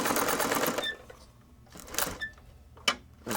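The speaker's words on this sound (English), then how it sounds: "I'm gonna be sewing this piece of plastic here to help hold this." A sewing machine stitches a plastic patch onto a torn skate in short mechanical bursts, with a longer run at the start, then quieter gaps broken by brief whirring spurts, fairly close and alone.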